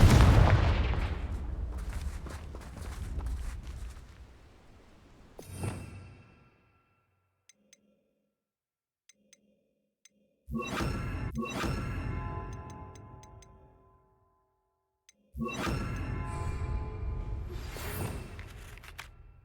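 Spell blasts and explosions from the Hogwarts Legacy video game: three loud bursts of booming, crackling impacts, each fading over a few seconds, separated by near-silent gaps with faint tinkling effects.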